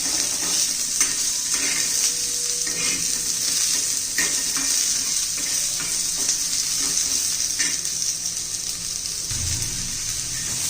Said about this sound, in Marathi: आता कांदा घालून घेऊया कांदा छान आता चांगला तांबूस होईपर्यंत आपण भाजून घेणार आहोत